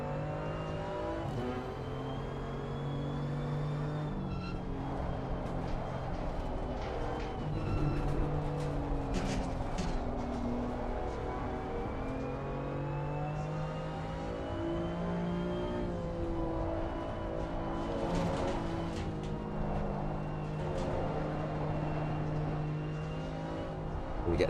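BMW M4 race car engine in Assetto Corsa Competizione, droning steadily near and loud with rising and falling pitch as it revs through gears, a continuous whirring engine note throughout.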